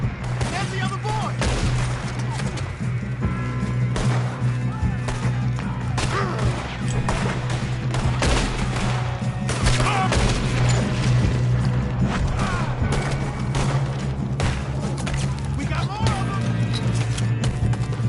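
Rapid, dense gunfire from a Red Dead Redemption 2 shootout in the game's prologue, with sharp shots cracking over and over for the whole stretch beneath a low steady drone, while game characters speak over the fighting.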